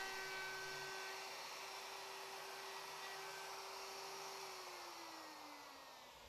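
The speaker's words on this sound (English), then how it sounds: "with the pattern bit installed in my router, I started routing out for the mortises following the inside of the template." A wood router fitted with a pattern bit cuts mortises in wood for Japanese-inspired sawhorses, giving a continuous high-pitched whine that holds steady and then dips slightly in pitch near the end.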